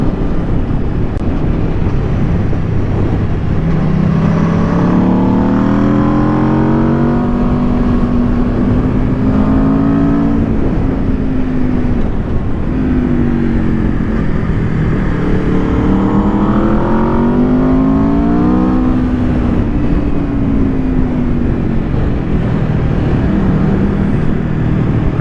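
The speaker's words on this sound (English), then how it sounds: "the bike sounds heaps better without the butterfly valve" A 2022 Aprilia RSV4 Factory sport motorcycle, with its exhaust butterfly valve removed, revs and roars loudly, pitch climbing and falling in repeated waves as it accelerates and shifts, exhaust note dominating throughout.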